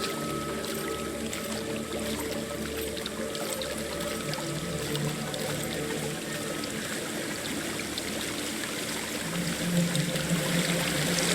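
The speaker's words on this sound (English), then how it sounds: "There's a waterfall." A waterfall in the video game Hellblade: Senua's Sacrifice roars as a constant, dense wash of rushing water, steady and loud throughout.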